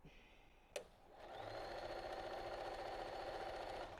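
A sewing machine stitching quilt pieces, starting after a short click and then running as a steady, close whir for about three seconds.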